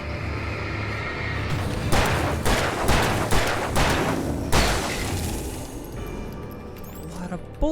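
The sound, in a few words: gunfire in the video game Alan Wake Remastered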